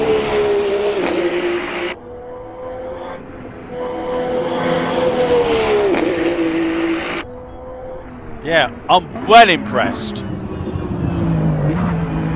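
A Ferrari 499P LMH Le Mans hybrid race car in Assetto Corsa drones steadily at high revs, with pitch shifting through gear changes and a sharp burst of downshift revving near the end, while someone talks briefly over it.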